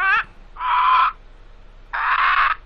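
A cartoon parrot in the game Dora the Explorer: Click & Create gives two harsh, squawking calls. Each lasts about half a second and is loud and close, with a short gap between them.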